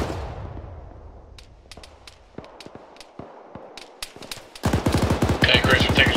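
Gunfire in the military video game Arma 3 during a co-op firefight: scattered single shots and short bursts, then a dense rapid automatic burst near the end, loud and close.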